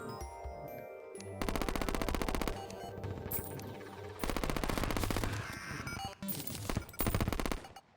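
Rapid weapon fire from the video game Terraria, dense bursts of repeated shots in several loud runs separated by short gaps, with game music and effects underneath.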